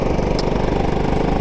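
A go-kart engine held at full throttle, a loud, steady, buzzing drone heard close for a brief moment with no pauses.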